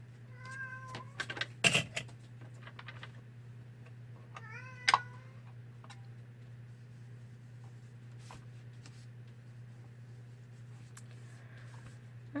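A cat meows several times in quick succession near the start, with one more meow around the middle, over a steady low electrical hum in a quiet indoor room.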